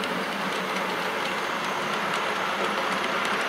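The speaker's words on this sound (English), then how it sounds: "The ballast increases the amount of noise that the train makes" A model train rumbles steadily and slowly along ballasted track nearby with a continuous rolling rattle, loud and unbroken throughout.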